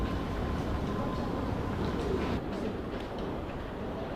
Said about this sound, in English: The train now approaching platform 9 doesn't stop here.